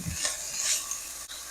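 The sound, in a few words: sofrito sizzling and being stirred in pan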